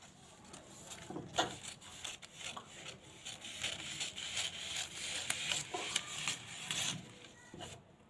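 Scissors cut the neckline of a katori blouse pattern on paper or cloth, close, repeated scraping snips and rubbing strokes in an uneven rhythm, no voice.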